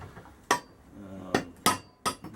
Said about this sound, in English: I think I've got to put those 4 bolts in here in the bottom.